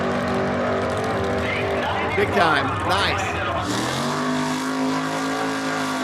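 Muscle cars race past with loud engine roar and a sweeping pass-by whine, one sliding in pitch around the middle, while someone talks over the noise throughout.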